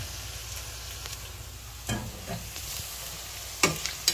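Tocino frying in a pan with steady soft sizzling throughout, broken by a few scraping stirs of a utensil near the middle and end.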